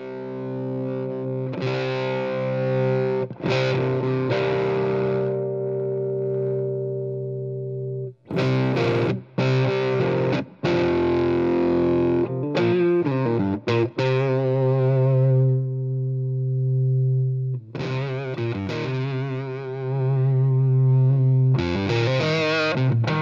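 Electric guitar through a Spaceman Effects Top Secret fuzz pedal, thick distorted chords and riffs played in bursts with brief gaps, loud and close, saturated fuzz tone ringing out with no talking.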